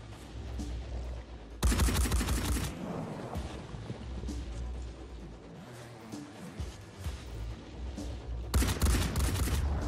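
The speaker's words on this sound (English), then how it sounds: "Those machine guns definitely make things trickier." Machine gun fire in the game Phoenix Point: two loud, sustained bursts of rapid automatic shots about a second long each, with quieter combat noise and scattered gunfire between them.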